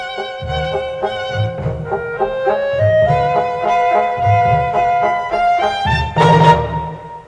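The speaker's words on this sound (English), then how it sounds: "That's the sound of Stravinsky," Stravinsky's The Story of a Soldier played by a small orchestra: quirky, jaunty passage with punchy low bass notes under bright repeated melodic lines, ending in a louder accented flourish, no voices.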